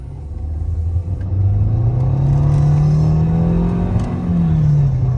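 A 2013 Nissan Altima with its CVT transmission low on fluid whines while accelerating, a steady rising tone riding over loud, close engine rumble with no talking.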